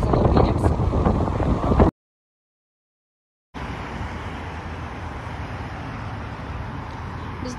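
Wind roars across the microphone in strong, steady gusts, cutting out briefly in the middle before resuming just as loud.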